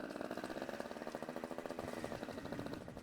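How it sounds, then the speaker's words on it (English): A moped's small engine revs at the rear, a faint, steady pulsing buzz with slight rises in pitch throughout. "again revving the motor a bit"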